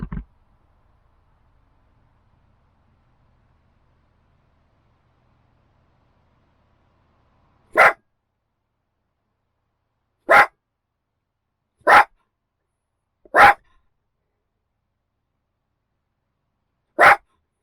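A dog named Hector gives five sharp single barks, spaced a few seconds apart and separated by near silence, each one close and loud.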